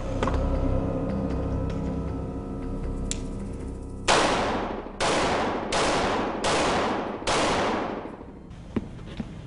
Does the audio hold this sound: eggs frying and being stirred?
no